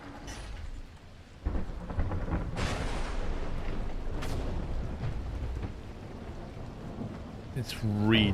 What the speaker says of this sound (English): Oh good, another storm.